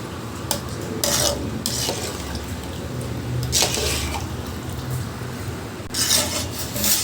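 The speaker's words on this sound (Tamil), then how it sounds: "தண்ணி சேர்த்துட்டு நல்லா கலந்து விட்டுடுங்க." Water stirred into Andhra-style gongura chicken biryani rice in a cooking pot, a steady wet scraping and mixing with soft clinks of a spoon against the pan, close and continuous.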